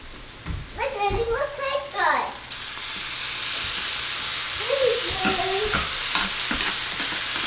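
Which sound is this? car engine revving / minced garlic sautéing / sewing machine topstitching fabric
minced garlic sautéing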